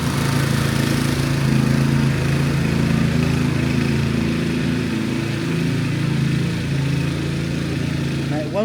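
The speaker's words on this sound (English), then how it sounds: "the scarifier features blades which spin round at high speeds, and they effectively rake the lawn to remove the dead material" A motorised lawn scarifier runs steadily on a moss-riddled lawn, its high-speed spinning blades raking out dead material, a continuous loud engine-like drone with a faint whir throughout.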